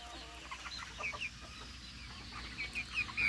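Cockerels and baby pullets cluck in a ranging area, with soft scattered clucks and chirps over a steady outdoor background.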